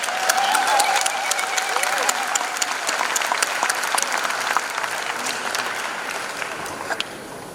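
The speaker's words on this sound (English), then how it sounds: "Can you help me to clap?" An audience applauds a newly addressed president at a Global Peace ceremony at the United Nations: dense, steady clapping from many hands, holding fairly loud across the whole stretch and easing slightly toward the end, with a brief voice audible near the start.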